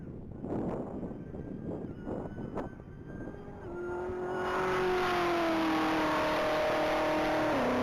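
A 2023 Camaro at a Texas Mile top-speed racing event, its engine building from a distant rumble into a loud, sustained high-revving roar that holds steady as it accelerates hard down the track.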